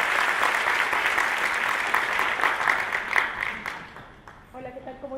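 A conference audience applauds a speaker with dense, sustained clapping that fades toward the end as a voice begins talking over it.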